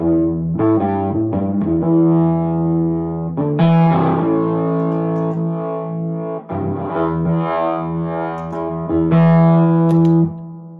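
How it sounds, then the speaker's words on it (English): A distorted, fuzzy guitar through an octave fuzz pedal with a thick octave-doubled tone plays sustained chords and riffs, loud and continuous with brief pauses. "it has the ghosty octave effect"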